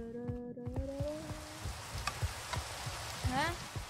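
Steady Minecraft rain hisses across the whole stretch, a soft broadband wash under scattered game blips and rising tonal chirps, with brief voice-like sounds near the start.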